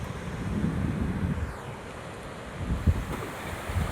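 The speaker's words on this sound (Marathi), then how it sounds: "आता पाण्याला भरती चालू आहे, सगळं पाणी वर चढतो इकडे." Sea waves at a beach at high tide, a loud close rushing wash of surf mixed with gusty wind buffeting the microphone, swelling and breaking again near the end.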